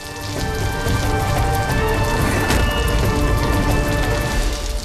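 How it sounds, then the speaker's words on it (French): Heavy rain pours steadily and loudly, a dense continuous hiss of drops drumming on a surface throughout, with no voices. "il pleut des cordes à l'extérieur"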